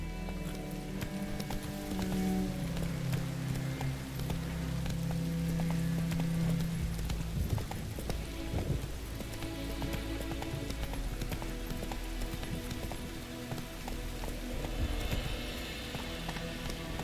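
Roach the horse galloping in The Witcher 3, a steady rhythmic clip-clop of hooves running throughout beneath layered game music and ambience.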